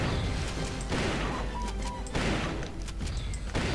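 Gunfire in Turok 2: Seeds of Evil, a string of loud blasts and impacts in quick succession with short gaps, dense and close, with game effects between shots.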